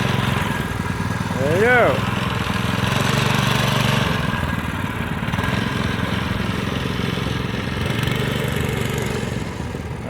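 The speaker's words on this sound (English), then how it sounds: "It's really cool mini monster bike." Small engine of a mini monster bike built from scrap parts, running steadily at a low putter in the background while people talk nearby.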